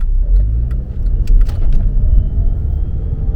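A modified Honda Civic engine revs under throttle, a loud deep rumbling drone with a swelling roar, accompanied by faint metallic clinks, close by and with no talking.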